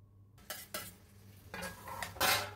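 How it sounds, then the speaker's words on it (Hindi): A spoon stirring boiled chickpeas and spices in a kadhai, with several clanking metal scrapes against the pan at an uneven pace, close and alone. "अब अच्छे से मिक्स कर देंगे छोले और मसालों को।"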